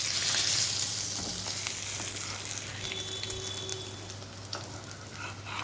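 A chicken spring roll fries in hot oil, giving a continuous, close bubbling sizzle with a low steady hum beneath and occasional faint clinks, with no talking.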